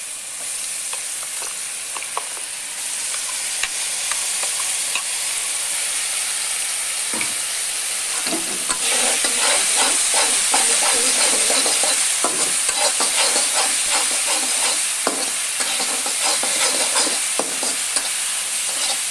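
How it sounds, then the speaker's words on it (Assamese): Steady loud sizzling of pigeon meat frying in a pan for curry, with repeated scraping and clinking of a utensil stirring throughout. "কমপ্লিটে গোটেইখিনি ভাজি ল'ব লাগিব"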